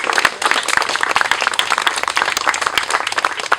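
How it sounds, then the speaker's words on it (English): Crowd applauding a zookeeper at an Andean bear cub naming ceremony at Salisbury Zoo, dense outdoor clapping from many hands lasting several seconds. "If you'll give him a round of applause."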